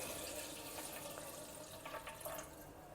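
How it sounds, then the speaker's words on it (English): Water drains from soaked millet into a sink, a steady broadband splashing rush that holds the whole time with slight surges and no voices. "Now we'll just drain out the water."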